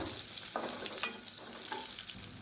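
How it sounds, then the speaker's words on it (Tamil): Finely chopped onion sizzles and fries steadily in hot oil with mustard seeds, curry leaves and dried red chillies, stirred now and then with a few soft scrapes. "பொடியாக நறுக்கின வெங்காயம் சேர்த்துக்கலாம்."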